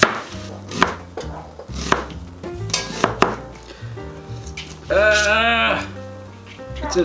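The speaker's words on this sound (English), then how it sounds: "I'm gonna chop up an onion." A knife chops an onion on a cutting board in uneven, sharp knocks, joined by clinks of kitchenware and a short stretch of voiced sound, with people talking throughout.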